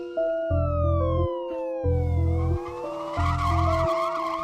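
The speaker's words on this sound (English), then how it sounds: "That's a good tire screech." A loud, drawn-out tire screech wails in repeated waves, its pitch sliding, with an engine-like roar pulsing underneath.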